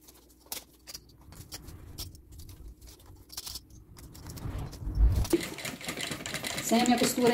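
Sewing machine stitching a zipper onto a toiletry bag, its motor running in short bursts at first, then a steadier, louder run of stitching in the second half, with some handling noise.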